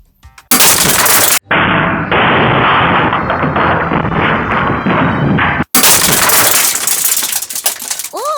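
A Moscart gas shotgun shell for airsoft fires a loud burst of many pellets, a sharp broadband blast followed by a sustained hissing gas rush and another loud burst, no voices.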